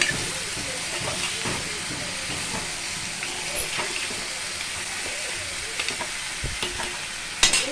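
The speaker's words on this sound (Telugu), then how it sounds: "క్రాబ్స్ వేసుకున్నామండి. ముద్దలు వేసుకొని ఇది ఒక్కసారి మంచిగా కలిపి" Crab masala curry, crabs mixed with masala paste, sizzles and hisses steadily in a pan while being stirred, with occasional scraping clatter and a louder knock near the end.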